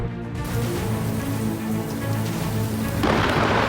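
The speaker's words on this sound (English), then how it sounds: "When a thunderstorm rolls into Valladolid" A thunderstorm rolling into Valladolid, with steady heavy rain and deep rumbling thunder that carry on throughout, then a brief surge of louder downpour near the end.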